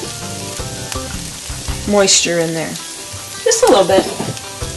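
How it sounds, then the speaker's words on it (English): Wild rice and mushrooms sautéing in a pan for a frittata, a soft sizzle sitting beneath a person's talking for the whole of this short stretch. "So everybody sautés nicely and plays nice together in the pan there"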